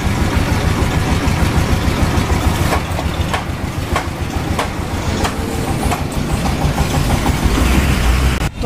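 A Bajaj Discover 125 motorcycle with a pickup and RPM meter fault runs after starting, giving a loud, steady engine drone with rapid regular pulsing and a few sharp clicks, without speech.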